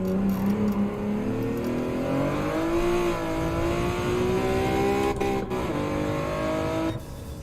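Car engine in Gran Turismo 7 revving hard against the rev limiter, a loud sustained high-pitched drone rising steadily in pitch before cutting off near the end.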